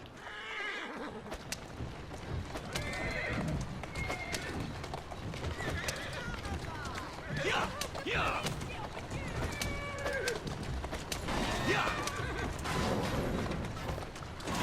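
Horse in Assassin's Creed Syndicate on the streets of Victorian-era London, repeated whinnies and snorts over steady clip-clopping hooves, with birds and ambient city noise around it and someone talking intermittently.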